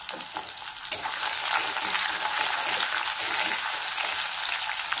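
Tomato pieces frying in a hot pan while cholar dal is being made, a loud steady sizzle that starts suddenly about a second in and keeps up close and continuous, with no talking.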